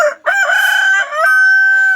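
A high-quality hill breeder rooster, red with light brown coloring, crows once loud and close, a single drawn-out cry with a sustained ending.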